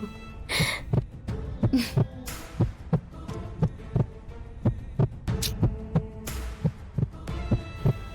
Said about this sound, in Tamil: என் சர்வீஸ்ல ஒரு குழந்தையோட ஹார்ட் பீட் இவ்ளோ பெருசா கேட்டு நான் கேட்டதே இல்ல